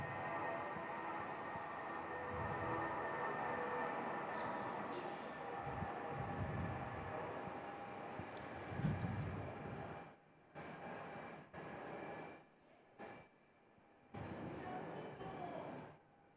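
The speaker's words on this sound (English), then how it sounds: "The 319 on the roll, turning and burning off on runway 21 here today." An Airbus A319 jet rolling for takeoff on runway 21 at Perth Airport gives a loud, sustained broadband engine roar for about ten seconds, then drops away into patchy quieter stretches with brief bursts of noise.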